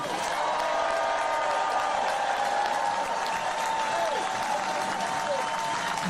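A large outdoor crowd at a union labor rally in Chicago claps and cheers continuously, a dense, even wash of applause that holds steady throughout without any clear speech.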